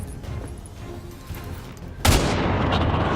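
Gunshot from a soldier's rifle in XCOM, a single loud sharp report about two seconds in, following quiet game ambience and ringing on with a noisy decaying tail.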